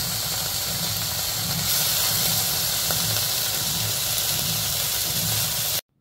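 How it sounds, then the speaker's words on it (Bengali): Dried shidol shutki fish hits a hot wok and fries with a steady, dense hiss that holds at an even level throughout, close by and continuous until it cuts off abruptly at the end. "গরম করে রাখা কড়াইয়ের মধ্যে আম্মু এই শুটকিগুলোকে দিয়ে দেয় আর কিছুক্ষণের জন্য ভেজে নেবে এগুলোকে"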